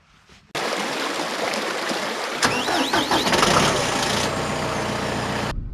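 A truck engine out on a ranch: a sudden start into a steady, loud running roar with a brief rising whine partway through, then a continuous idle-like drone until it cuts off.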